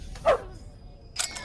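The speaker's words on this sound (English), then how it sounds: "Dog barking." A single dog bark from a Netflix movie trailer, short and fairly close, followed by a quieter stretch and a brief burst of other sound.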